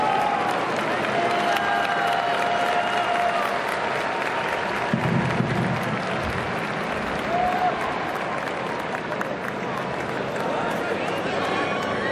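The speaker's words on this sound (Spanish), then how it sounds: "El sonido de la música, de la banda del Vaticano, casi velada por esos aplausos en la Plaza de San Pedro" A vast crowd in St. Peter's Square at the Vatican applauds and cheers without pause, a continuous distant roar of clapping with a band playing faintly beneath it.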